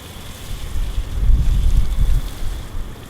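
Water from a watering can or hose splashing and pattering over seedling trays, a soft irregular wash that swells in the middle and then eases, heard alone without talk.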